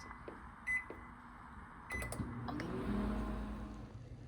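Microwave oven heating soy milk: a short beep, then a door or button clunk followed by the low steady hum of the oven running, close and fairly quiet.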